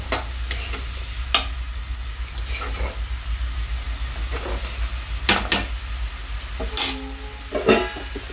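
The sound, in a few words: sautéing cumin and coriander spice masala in a pan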